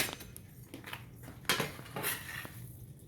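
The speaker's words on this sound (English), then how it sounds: "Let me get me a different spoon here." Metal spoons clink and clatter against dishes in a kitchen while a cook swaps for a different spoon, several sharp close knocks scattered across a quiet background.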